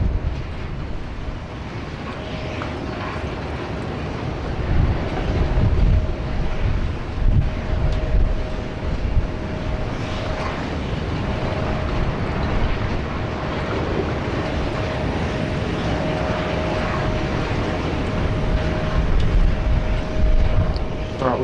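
A Jetstar Airbus A320 with sharklets lands at Sydney Airport, its steady broadband jet roar holding loud and even throughout with a faint constant tone, no voices.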